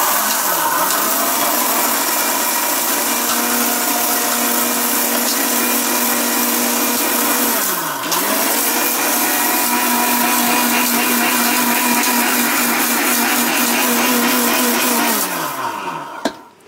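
Spices grinding to powder in an electric multi cooker, a loud continuous motor whir with rattling contents that briefly dips in pitch and winds down at the end, no voices.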